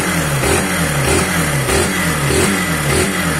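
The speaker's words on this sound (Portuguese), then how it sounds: "E agora, acelerando, pra vocês verem." A carbureted Honda Titan 150 motorcycle engine revs repeatedly, loud and close, with rising and falling throttle blips over a steady mechanical drone and no talking.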